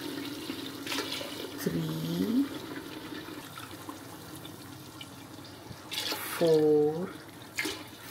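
Glasses of water are poured into a pot for mutton pulao. Two distinct pours splash in a few seconds apart over a quiet kitchen background while a person counts aloud.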